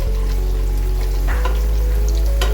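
Paneer fries in a pan with a continuous close crackling sizzle over a strong low hum, with a few brief louder spits.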